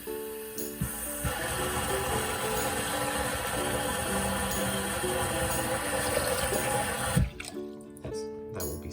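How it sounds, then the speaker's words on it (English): Water pours steadily into a container while an aquarium is being set up, a continuous close rushing and splashing that runs for several seconds, then cuts off abruptly near the end. "And then I'll fill that with water."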